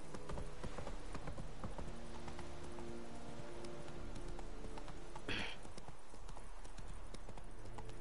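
Roach the horse gallops in The Witcher 3, a rapid, steady clip-clop of hooves at close range over a continuous game soundscape, with a brief louder swish partway through.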